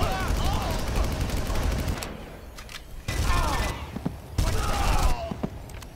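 Gunfire in the Far Cry video game, a swamp firefight with rapid rifle volleys in several loud bursts separated by short quiet gaps, with a voice talking faintly among the shots.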